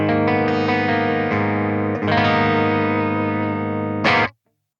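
Vola Keene Machine electric guitar with tremolo, played in pickup position 3: a sustained strummed chord ringing out loud and full, restruck partway through, then a final short strum that is cut off to silence, with no voice.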